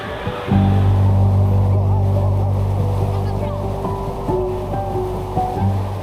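Churning water and surging waves in an indoor wave pool roll steadily beneath a low mechanical hum, with indistinct background voices mixed in.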